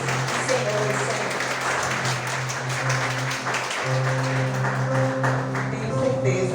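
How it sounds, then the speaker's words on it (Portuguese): Steady crowd applause at a municipal health conference in Sapeaçu, many hands clapping throughout, joined by sustained music tones, fairly loud and continuous. "Uma salva de palmas toda a mim, mas para Jesus"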